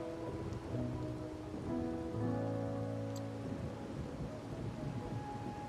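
Steady rain patters across the whole clip in the video game Wuthering Waves, with low sustained musical tones playing underneath throughout.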